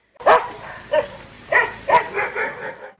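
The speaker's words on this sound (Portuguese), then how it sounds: "o momento que a viatura da PM entra na comunidade e é atacada pelos cães" Several dogs bark in sharp bursts at a police car entering a neighborhood, about five or six loud barks spaced irregularly, close by with a yip mixed in.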